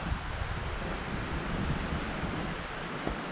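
Breezy outdoor wind on a warm, hazy hiking trail at Rogers Ledge. It is a steady, fairly loud broadband rush with wind buffeting the microphone, continuous throughout and without voices.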